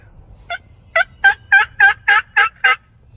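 Wild turkeys gobble at dawn in the Kentucky woods, one rapid rolling gobble of about eight quick pulses, fairly close and clear over a quiet background.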